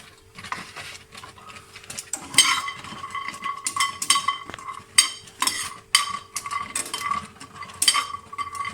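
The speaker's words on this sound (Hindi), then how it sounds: "साथ साथ इसका चम्मच भी हिलाते जाना है।" A spoon stirs chana dal dry roasting in a pan over a low flame, making close, irregular scraping and rattling clicks of lentils against the metal, with no talk.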